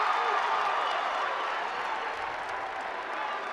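Crowd at a 2012 South Carolina Class A boys high school basketball upper state championship game applauding, a steady wash of clapping and cheering from the stands throughout, no speech over it.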